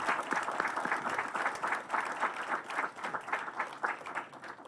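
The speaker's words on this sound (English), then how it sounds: "I request you to give him a big round of applause" A lecture-hall audience applauds at the close of a memorial lecture, dense steady clapping from many hands lasting throughout with no voices standing out.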